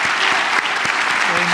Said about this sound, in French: I think he Je crois deserves an applause.